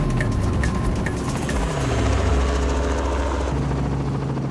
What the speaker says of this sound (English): while I hitch a ride in the chopper